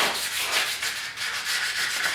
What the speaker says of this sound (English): You don't want to sand it too much, just get it nice and smooth.